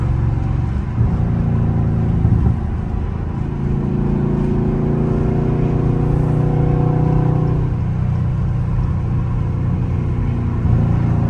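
A Dodge Scat Pack's engine pulls hard on a city street, a loud continuous exhaust roar with rising revs that dip and climb again, heard from inside the car with no talking.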